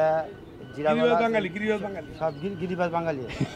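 Pigeons coo in soft, rolling bursts close by at a pigeon market, with a few brief voice sounds mixed in.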